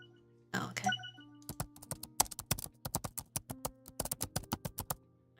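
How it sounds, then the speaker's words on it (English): Rapid, uneven clatter of laptop keys being struck hard by someone typing in a cafe, with a brief rustle before the keystrokes begin close and dry. "Can you like type any harder?"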